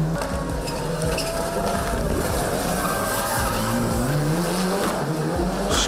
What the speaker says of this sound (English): as soon as he gets around that corner, all four wheels digging in, full power, man